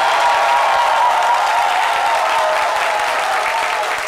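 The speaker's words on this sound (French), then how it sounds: "Merci de vous applaudir très très fort" Loud, sustained studio audience applause fills the room evenly from start to finish, a dense wash of many hands clapping together with faint cheering mixed in.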